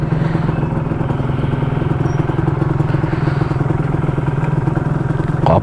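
A Yamaha RXZ two-stroke motorcycle engine with standard exhaust and carburetor idles and revs steadily up close, a dense low chugging with rattling clatter throughout, no voices.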